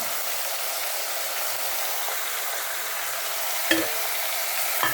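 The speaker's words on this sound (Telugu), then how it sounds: "ఇప్పుడు టమాటాలు వేసుకోవాలి. అందులో చూసారా సౌండ్ ఎలాగ వస్తుందో?" Tomatoes for a tomato and egg curry hit a hot pan and sizzle in a steady, loud, bright hiss that lasts throughout, with a couple of brief clatters near the end and no talking.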